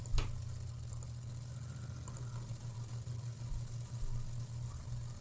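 A car engine idles steadily with a low rumbling hum and a faint sizzling hiss on top, holding at an even level throughout after a brief click at the start, with no voices.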